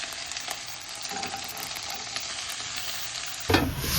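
Beans added to potatoes frying in a pan, a steady close sizzle with stirring scrapes, then a sudden louder burst of hissing as the beans hit the hot oil near the end.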